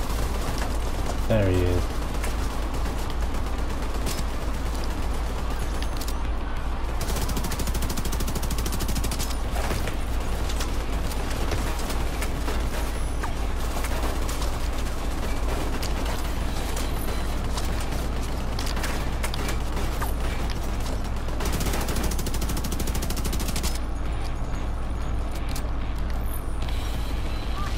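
Sustained gunfire in The Division 2 rattles on for nearly half a minute, dense overlapping automatic bursts and single shots over a constant low rumble, with a player's voice speaking briefly in between.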